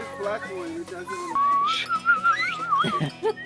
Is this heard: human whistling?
yes